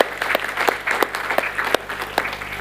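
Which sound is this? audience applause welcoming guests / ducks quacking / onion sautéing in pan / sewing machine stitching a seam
audience applause welcoming guests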